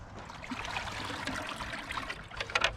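Comfrey juice poured into a dug planting hole on an allotment, a continuous close trickling, splashing stream of liquid that swells slightly near the end, with no talk.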